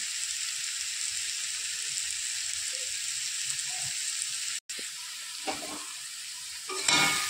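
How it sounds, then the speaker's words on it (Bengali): Food frying in a pan over lowered heat, a soft continuous sizzle with occasional stirring scrapes and a sharp clatter toward the end. "আবার হালকা করে ভালো করে একটু নেড়ে চেড়ে নেব।"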